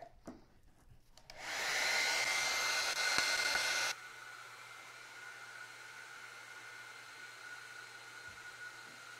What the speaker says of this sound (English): Hit it with the dryer.